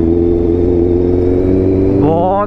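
A superbike engine runs loud and close, a steady deep roar that rises in pitch as the throttle opens near the end, at a bikers' meetup.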